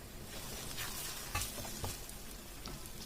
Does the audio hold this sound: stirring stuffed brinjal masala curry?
yes